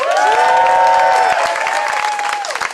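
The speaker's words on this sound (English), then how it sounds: "Clap it up for Kendra one more time, y'all." A crowd at a March for Abolition rally in New York City claps and cheers loudly for a speaker, with sustained shouted voices ringing over dense applause that begins to thin near the end.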